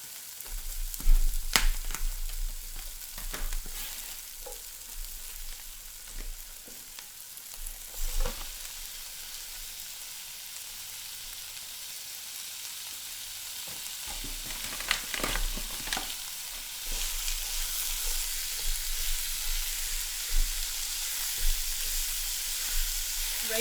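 Minced lamb frying in a pan for a low-carb moussaka, with a steady, close sizzle that grows louder toward the end, broken by occasional scraping stir strokes and a low hum, with no voices.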